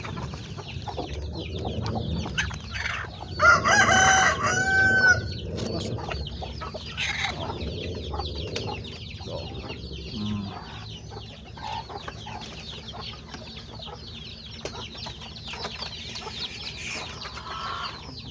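Backyard Rhode Island and bantam chickens cluck repeatedly nearby, with a brief crow-like call early on and soft background clucking throughout.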